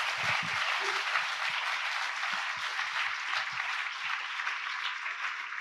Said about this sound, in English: Please join me in applauding this wonderful panel for their contribution.